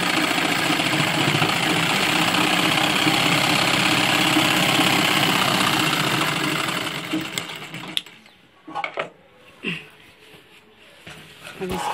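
A sewing machine runs a continuous loud whirring stitch as it sews a double seam on a dhoti shalwar, stopping near the end and leaving a few clicks, rustles and short handling noises.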